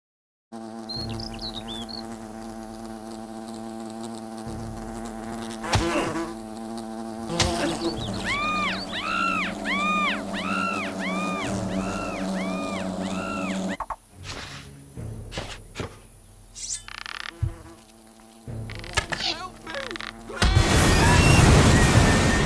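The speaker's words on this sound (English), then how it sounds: "Wasps!" Wasps in the video game Fable Anniversary buzz steadily and loudly for a long stretch, a droning hum with wavering whines rising over it, joined by game effects and a louder burst near the end.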